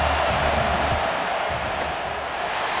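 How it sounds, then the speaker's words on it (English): A stadium crowd in the College Football 26 video game, Texas Longhorns vs Arkansas, roars through a fourth-down field goal attempt. The roar is loud, steady and dense, holding evenly throughout. "This crowd trying to do its part to get inside the kicker's head."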